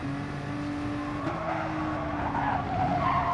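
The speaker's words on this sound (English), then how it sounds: "as he gets a massive slide through turn 1" Race car in a racing video game sliding through a corner, with a sustained tyre skid and squeal over a steady engine drone. The skid fades toward the end, and no one talks.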